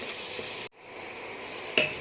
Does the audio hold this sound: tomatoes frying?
yes